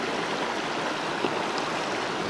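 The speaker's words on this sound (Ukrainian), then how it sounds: "Класно річка шумить." A mountain river in the Carpathians rushes in a steady, broadband wash of water noise, close and continuous with no voices over it.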